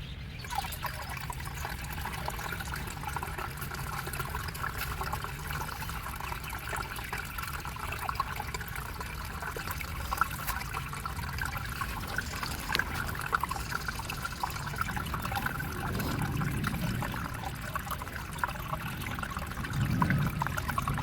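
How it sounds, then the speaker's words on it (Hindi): Water is poured into a small garden pond lined with stones, a continuous soft trickle and splash that runs steadily for a long stretch, faint and fairly close, growing a little fuller toward the end. "अब डालते हैं इस तालाब में पानी।"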